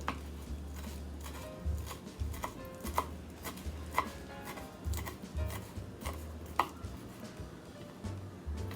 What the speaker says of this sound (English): And then you're gonna just go ahead and mince it.